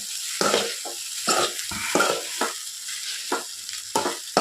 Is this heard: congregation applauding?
no